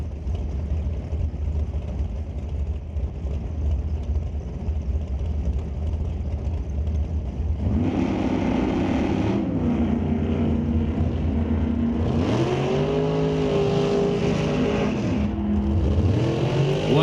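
NHRA drag racing cars sit idling with a low rumble, then launch off the line in loud, rising engine roars, followed by a second surge of revving as another run screams away.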